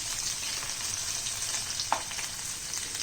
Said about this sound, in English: Once the oil heats up, we'll add in onions, which are thick sliced.